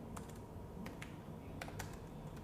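Light, quiet computer keyboard clicks come in short bursts as a footer is typed into a document.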